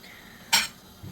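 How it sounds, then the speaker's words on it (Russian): Dishes being washed give a single bright clink of cutlery and crockery, close and brief, with quiet room sound around it. "У нас тут моется посуда."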